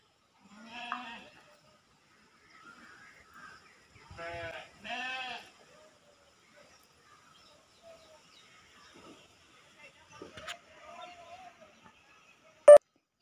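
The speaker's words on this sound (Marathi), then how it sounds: "शेळ्या, मेंढऱ्या आणि आपले म्हैशी, गाई सुद्धा चरायला आलेल्या आहेत." Goats, sheep, buffaloes and cows file past a doorway on their way to graze, with a couple of short bleats up close and faint scattered sounds between, then a sharp click near the end.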